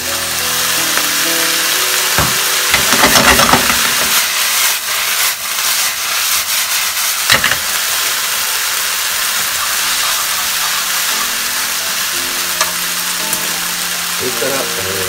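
Dashi and water hitting yakisoba noodles in a hot pan set off a steady, loud sizzling hiss that runs throughout, with a few sharper bursts of spattering and steam early on.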